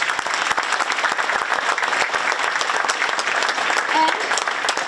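Sustained audience applause fills a school auditorium after a 9th grade winter concert, honoring the pianist; many hands clap in a dense, even patter with a few sharper individual claps standing out.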